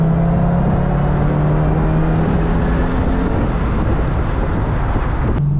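A supercharged Lexus GS400 engine holds a steady, loud drone with a rising harmonic whine under hard acceleration, heard from inside the car and continuous throughout, with a brief sharp click near the end.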